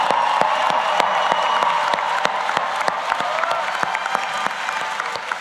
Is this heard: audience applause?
yes